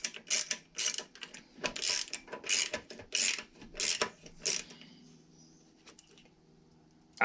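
A ratchet spanner with a 13mm socket ticks in quick, close bursts while tightening the nuts on a lift table wheel, then fades to faint handling noises.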